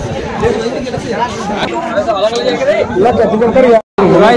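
A dense crowd chatters in the ticket area of the Aqura jungle water park, a constant close babble of many overlapping voices with a brief dropout near the end.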